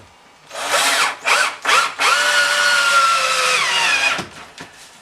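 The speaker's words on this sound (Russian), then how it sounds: "И закручиваете полочку." A power drill drives a confirmat screw into a wardrobe shelf, close and loud, in several short bursts followed by one long sustained whir that ends with a brief stop and a faint click.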